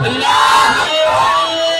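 A crowd at a religious conference in Hasanganj answers a Nara-e-Takbeer call with a loud, close, unified shout that swells, dips briefly and rises again in a second drawn-out cry.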